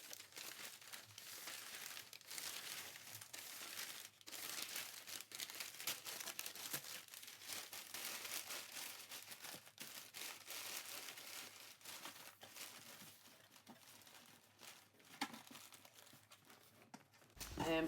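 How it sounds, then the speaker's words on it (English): Packing paper crinkles and rustles steadily while a DVD-VCR combo player is packed for shipping, a close, continuous dry crackling with brief louder crunches and no talk. "I'm going to put a layer of packing paper over the top here and seal it up."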